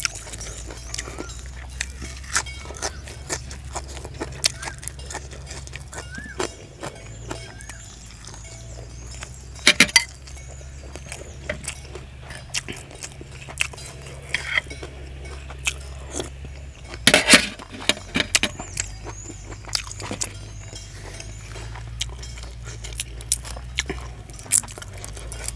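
Eating crunchy grilled beef skin: close, loud bites and chewing with repeated crisp crunches and wet squishes in an uneven rhythm, almost no talking.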